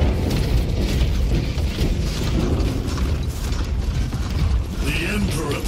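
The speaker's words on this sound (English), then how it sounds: "This is the sound of the Tempest." Heavy Tempest machinery in Space Marine 2 grinds and clanks continuously, a dense mechanical roar of ratcheting gears and creaking metal with a deep booming undertone, loud and sustained throughout.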